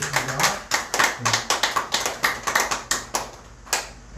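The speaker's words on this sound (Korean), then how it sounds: "우리 박수로 한번 축하를 보내면 좋겠습니다" Brisk applause from a small group, steady clapping close by for a few seconds that thins out toward the end.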